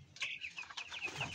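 Broiler chickens, about 45 days old, in a pen, giving several short chirps and clucks close by, with no talk.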